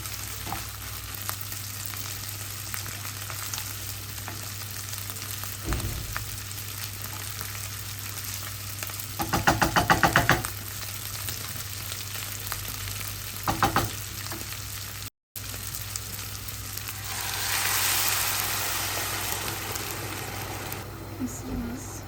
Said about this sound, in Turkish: Pirinci bayağı uzun bir süre kavuruyorum.